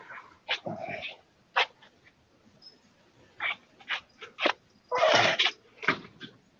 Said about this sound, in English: The dog goes in and the cat comes running out.